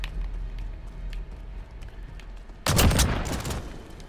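R9-0 shotgun in Modern Warfare fires one loud, broadband blast near the end, ringing out over a steady background rumble of game ambience.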